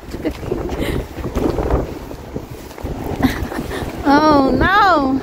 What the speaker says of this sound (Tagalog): So windy, eh?